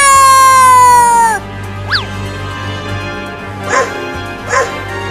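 A dog lets out a drawn-out whine, then three short, sharp barks spaced a second or two apart, fairly close, with no talking.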